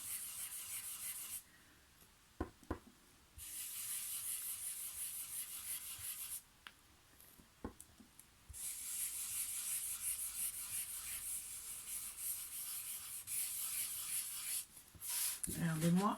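An applicator rubs ink onto paper in soft, steady scrubbing strokes, close and quiet, broken by brief pauses and a few light taps, with a voice talking in places.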